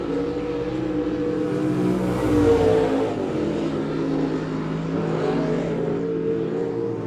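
Dirt-track race cars lap Monett Motor Speedway, their engines roaring loud and steady, rising and falling as the pack passes close by.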